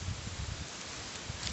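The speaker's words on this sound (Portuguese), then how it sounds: "Olha o vento que tá, gente." Wind blows outdoors on a farm with old trees and a coconut palm, buffeting the microphone in low gusty rumbles and a soft rustling hiss, steady and fairly faint with no talking.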